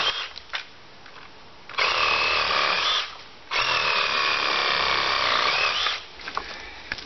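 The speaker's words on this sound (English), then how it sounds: "Amazing saw." A saw cuts through an inch-and-a-half tree branch outdoors while yard waste is prepared for mulch. It makes two loud, steady buzzing cuts of a second or more each, with a brief pause between them and no talking.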